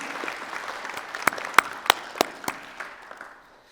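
Graduation ceremony audience applauding the graduates' supporters, a sparse spattering of scattered claps heard at moderate distance rather than a loud ovation, thinning out toward the end.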